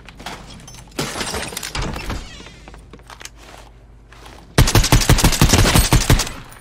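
Shotgun fire in a video game: loud, sharp blasts in quick succession, a dense cluster of bangs early on, then a louder rapid volley near the end, with no talk over them.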